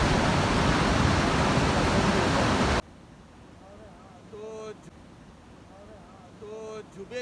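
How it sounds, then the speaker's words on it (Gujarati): Heavy floodwater rushing through flooded streets of Porbandar after torrential rain makes a loud, dense roar for the first few seconds, then cuts to a quieter scene where people talk. "અતિ ભારે પાણી વહી રહ્યું છે અત્યારે"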